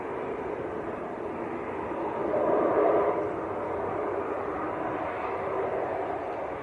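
An ATR turboprop arriving at Manchester Airport from Guernsey, a steady broadband engine drone at moderate distance that swells slightly partway through and then holds even.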